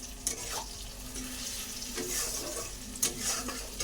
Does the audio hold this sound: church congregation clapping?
no